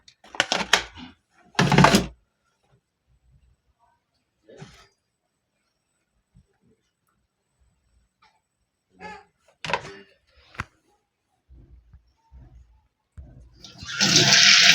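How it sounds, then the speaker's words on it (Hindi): Fresh green coriander washed under running water, heard as short bursts of gushing water separated by long quiet gaps, with a longer surge at the end. "हरा धनिया मैं इधर धो रही हूँ"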